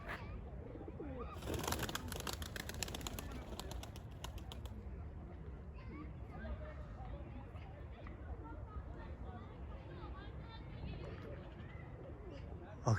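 Pigeons coo on the ground near a pigeon loft, soft repeated coos under a low background of people talking, with a brief flurry of sharper noise early on.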